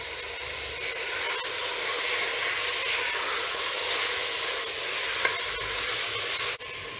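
Tomatoes frying in a pan with spices for a mixed vegetable mutton dalcha, giving a steady broadband sizzle that runs continuously at close range with a few brief stirring clicks, and no talking.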